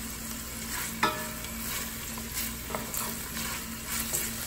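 Guanciale for carbonara fries in a pan with a constant close sizzle and crackle, punctuated by occasional scraping stirs and light utensil knocks, with no talking.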